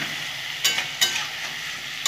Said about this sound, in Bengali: একটু সাঁতলে নেবো কপি আর আলুটা